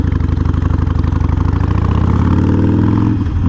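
A Harley-Davidson Sportster 48 engine runs loud and close with an uneven, throbbing idle that rises into a brief rev near the end.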